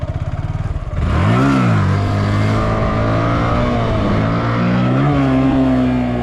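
Honda motorcycle engine revving hard during wheelies, a loud close roar that surges up and down in pitch after a rough idling start, with no talk.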